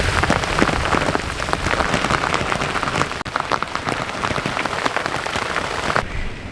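Steady rain drums on a sailboat moored near St Lucia, a dense, close patter of drops hitting deck and surfaces throughout, with no voices.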